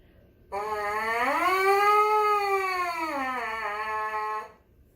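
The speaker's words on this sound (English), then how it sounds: "When you buzz into a mouthpiece, it sounds like this." One long buzz into a brass instrument mouthpiece, a nasal tone that bends upward, holds, then sinks back before stopping, close and clear with no talking.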